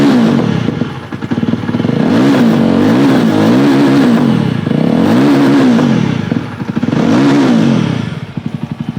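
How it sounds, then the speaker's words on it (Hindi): Yezdi Roadster Retold Edition motorcycle idling, then blipped through three or four loud revs that rise and fall, with a lumpy thumping exhaust close by and no talking. "तो ये हमने साउंड सुना रीटोल्ड का।"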